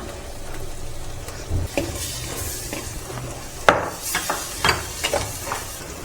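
Three ripe tomatoes, ground to a paste, sizzle in hot oil while a spoon stirs and scrapes the pan with a few sharp knocks, a steady frying hiss underneath.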